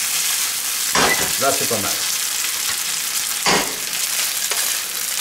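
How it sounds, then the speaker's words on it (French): Bacon lardons sizzle in oil in a pan, a constant close hiss with a couple of stirring scrapes, and a voice speaks briefly over the frying. "les lardons sont poêlés, c'est parfait."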